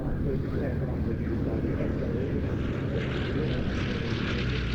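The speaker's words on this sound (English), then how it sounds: "More radial engines with a pair of Lysanders" A pair of Westland Lysander aircraft with radial engines flying at a military airshow, giving a steady, fairly loud propeller drone with a slight swell, under someone talking.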